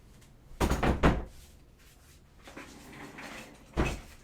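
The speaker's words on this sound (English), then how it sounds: "I had to shut my door." A door at home pushed shut, a couple of close, heavy thuds followed by a quieter rattle and one more solid thump a few seconds later.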